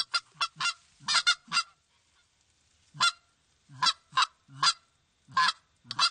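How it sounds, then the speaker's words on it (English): Geese honking in loud bursts during a goose hunt, several calls in quick succession, then a pause and another run of honks, close by and clear. "Can Steve call another goose into the gun?"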